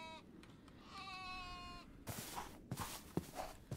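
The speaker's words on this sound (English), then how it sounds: "it's like a sheep with giant horns" A horned sheep creature bleats in the Minecraft RLCraft modpack, a clear, wavering cry that runs for about a second, followed by a few scattered thumps and footstep-like knocks.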